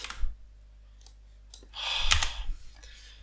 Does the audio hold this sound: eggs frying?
no